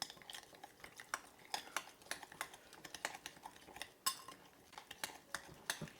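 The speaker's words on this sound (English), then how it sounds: "we are going to stir this together" A pepper and horseradish mixture is stirred in a small dish: quick, steady clicks and scrapes of a utensil against the container, fairly faint, with no talking.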